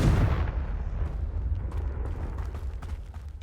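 A Confringo blasting spell in the Hogwarts Legacy video game erupts as a deep, loud explosion right at the start, its rumbling boom slowly decaying into a low roar with scattered crackles over a few seconds.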